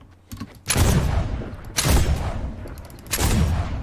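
Three heavy Flint Knock blasts in Fortnite, each a loud booming shot with a long decaying tail, spaced roughly a second apart and heard alone with no talk.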